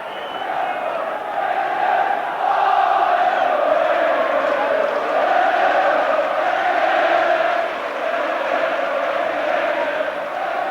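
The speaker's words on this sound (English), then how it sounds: "This is good support from the crowd" Stadium football crowd at a 1992 Liverpool v Genoa match, a loud sustained roar of cheering and chanting that swells and holds steady throughout, dense and continuous with no pauses.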